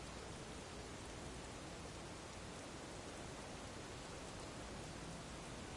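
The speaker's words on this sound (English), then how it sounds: "Wait until the rain stops?" Steady, dense rain falls across the scene in the video game The Missing, a continuous hiss of even loudness with no voices over it.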